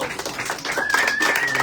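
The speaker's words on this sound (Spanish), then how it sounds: "más aplausos para ella, más" Clapping from an audience at a poetry reading, a short stretch of close, uneven hand claps with a thin whistle-like tone rising partway through.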